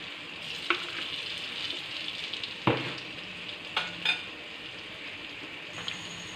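Moong dal vada batter frying in a pan, a steady close hiss of oil with soft pops and a few sharper clicks and scrapes scattered through, no voices.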